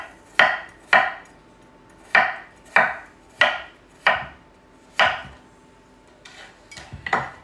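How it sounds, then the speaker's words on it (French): A knife chops potatoes for a gratin dauphinois, eight sharp knocks on a board in an uneven rhythm, close and clear in a quiet room, with faint rustling at the end. "Je vais commencer à couper pour peser ce que j'ai en pommes de terre"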